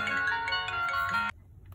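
A smartwatch ringtone for an incoming WhatsApp call, a loud steady melodic electronic tone that plays for over a second and then cuts off abruptly.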